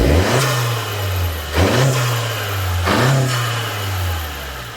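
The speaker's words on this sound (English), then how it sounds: "this is what it sounds like, just regular park mode, just by stepping on the gas." A Honda Civic CVT with a PRL short ram intake revving in park, three quick throttle blips rising from idle and falling back, close and steady with intake growl and no talking.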